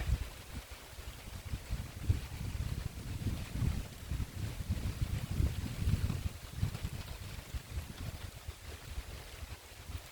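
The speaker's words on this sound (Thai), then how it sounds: "มีลมกำลังมานะคะ" Strong gusts of wind rushing in under a darkening sky just before a heavy rainstorm, a steady low roar with buffeting microphone rumble that swells and fades across the clip, no voices.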